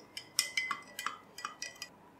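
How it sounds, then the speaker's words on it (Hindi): A metal spoon stirring orange Tang drink mix into water in a glass, making a steady run of light, bright clinks against the sides, close and alone. "पानी में ऑरेंज टैंक को हम डालेंगे और मिक्स करेंगे।"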